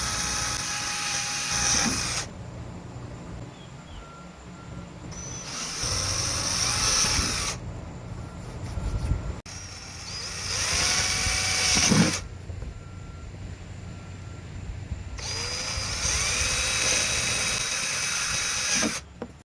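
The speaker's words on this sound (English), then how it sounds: "Drilling the holes for the rivets." A power drill whirs in four separate bursts of a few seconds each, drilling rivet holes while installing an anchor trolley, close and steady, with quieter pauses between holes.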